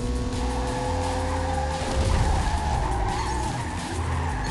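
Tires skid steadily while a car drifts through a corner in the Ridge Racer Driftopia video game, a loud continuous screech over steady engine drone, with no voices.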